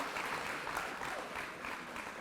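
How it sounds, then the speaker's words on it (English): Audience applause at a school graduation ceremony, a continuous, even patter of many hands clapping, heard somewhat distantly and softly throughout. "Another round of applause,"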